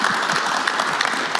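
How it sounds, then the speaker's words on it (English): A conference audience breaks into dense, steady applause, many hands clapping together in a continuous wash of sound with no speech. "I think it deserves a round of applause"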